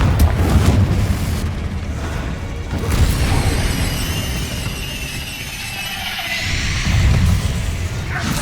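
Confringo fire spell bursts from the video game Hogwarts Legacy: a sustained rumbling blast with crackling, whooshing layers, swelling again near the start, middle and end over a dense game backdrop.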